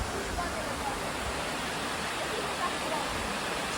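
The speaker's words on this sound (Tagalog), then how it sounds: "Sabi yung waterfalls, nandito sa gilid." A waterfall with clear water runs as a steady, full rush of noise, even and unbroken throughout, with no voices heard.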